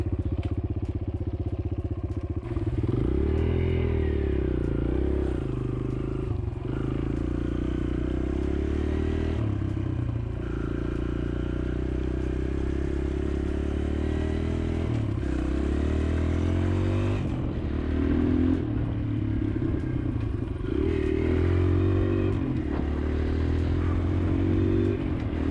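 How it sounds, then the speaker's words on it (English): A Kawasaki KLX140L pit bike rides through mud, its engine droning steadily with rising and falling revs, under constant clattering and scraping for the whole stretch. "Smooth running bike, man."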